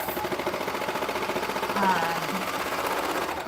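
A sewing machine runs steadily and close by, stitching out fabric scraps with a continuous even hum and fast needle chatter, while a voice talks faintly underneath.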